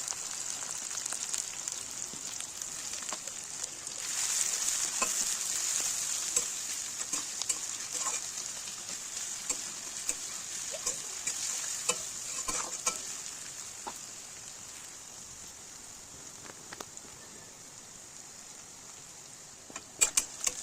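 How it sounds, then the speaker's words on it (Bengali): Chopped onion and green chilli frying in oil, a steady close sizzle with scattered stirring scrapes and clicks, growing louder for a stretch and then settling softer toward the end. "এবার পেঁয়াজ কুচি, কাঁচা লঙ্কা কুচি দিয়ে ভালো করে ভেজে নেব।"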